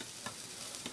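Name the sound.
Jersey Mike's hot subs sizzling on the grill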